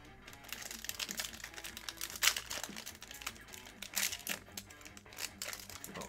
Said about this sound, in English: Not my cleanest pack rip.